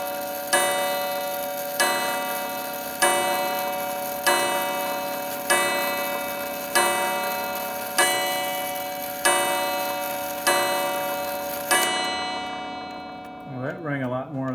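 Clock striking repeatedly, about nine evenly spaced ringing chimes with long decaying overtones and no ticking audible, followed by a brief wavering voice at the end.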